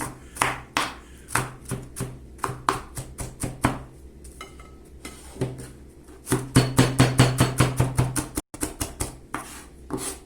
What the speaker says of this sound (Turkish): Güzel güzel ince ince kıyalım.